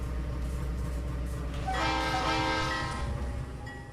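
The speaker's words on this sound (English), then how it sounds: "If you ever hear a train depart and it blows its horn twice, that means it's ready to go forward, ready to depart." A train horn sounds once, loud and sustained, over a steady rumble of rail noise as the train departs.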